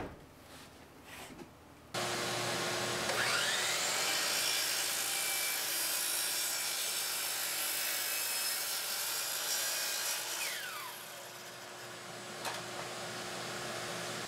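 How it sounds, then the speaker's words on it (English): A miter saw in a basement workshop cuts shelves to size; its motor starts abruptly and roars steadily for about eight seconds, then spins down into a quieter whine. "All of the shelves got carried down to the basement and then cut down to size on the miter saw."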